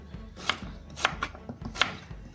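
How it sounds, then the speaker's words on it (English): A knife cuts a sweet potato into small cubes on a board, giving soft, repeated chopping knocks at a steady, unhurried pace, close up and fairly quiet with no talking. "So I'm just cutting it up in small cubes so it's easy to process in the blender."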